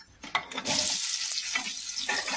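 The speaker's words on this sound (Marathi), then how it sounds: "त्याच्यात तेल टाकून आपण कांदे टमाटे परतून घेऊया" Onions and tomatoes hitting hot oil in a kadai, starting with a few clinks and then bursting into a loud, steady, close sizzle that holds to the end, with no voices.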